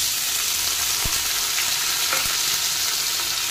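Soaked horse gram tipped into a sizzling tempering of tomatoes and green chillies, a steady loud frying hiss throughout with a couple of sharp spatters and clinks as the lentils hit the hot oil.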